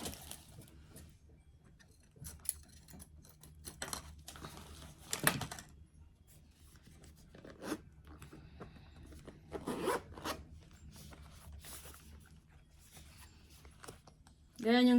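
Scissors cut open the packaging of a DJI Osmo Pocket 3 camera, giving scattered crisp snips and crinkly rustles spread across the stretch, while a person talks intermittently nearby.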